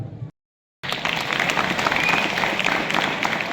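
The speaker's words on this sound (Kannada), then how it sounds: "ಜೋರಾದ ಚಪ್ಪಾಳೆಯನ್ನು ನೀಡಬೇಕು." Loud, dense applause from an audience at a school prize and championship ceremony, steady clapping filling the hall after a brief gap of silence, with a few words at the very start.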